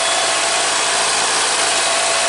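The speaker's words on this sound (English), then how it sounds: "Sounds like it's probably idling a little bit high." A 2016 Nissan Versa engine idles slightly high after a throttle body cleaning, giving a constant, even hiss-like drone close to the microphone with no voices.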